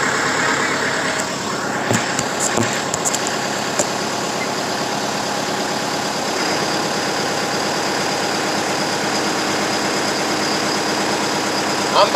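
An International big rig truck engine idles steadily at close range, a continuous low rumble with a few brief knocks and clanks near the start, running on alone throughout.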